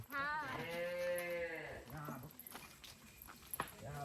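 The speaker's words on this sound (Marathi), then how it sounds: "वासरू पण आहे हम्म्या करत" A young calf gives one long drawn-out moo up close, followed by quieter rustling, shuffling and a sharp knock.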